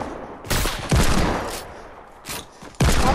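Gunfire in a murder mystery video game: several loud, sharp shots in quick bursts separated by short pauses, with no voices.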